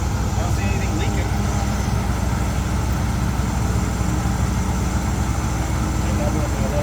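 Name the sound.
1977 Pontiac Bonneville engine idling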